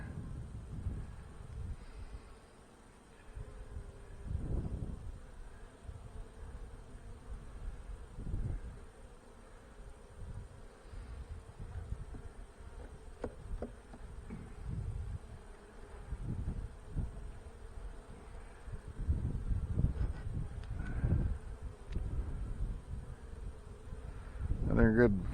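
Honey bees buzz steadily around an open hive frame of brood in a fireweed area, a low hum with occasional louder passes near the mic and intermittent quiet speech over it.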